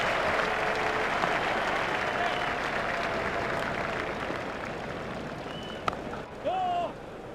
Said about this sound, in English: The crowd were brought to their feet by that shot.